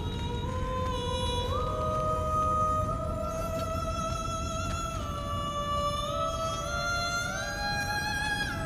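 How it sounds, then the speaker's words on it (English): A siren's eerie, wailing song in God of War Ragnarök's Valhalla, long rising and sliding tones layered over a steady hum, sustained and loud without speech. "Siren? Cover my ears!"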